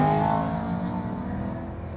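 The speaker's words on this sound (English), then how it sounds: "That downshift." A manual car's engine downshifts, a brief rising mechanical whir heard from inside the car, steady and moderately loud, with no talking.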